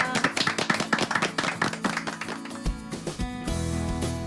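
Congratulatory applause from a small group, a burst of quick uneven claps close by that thins out and gives way to music.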